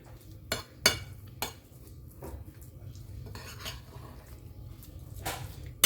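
A spoon scrapes and clinks against a bowl while pistachio chocolate paste is mixed, several sharp knocks early on, then quieter steady stirring.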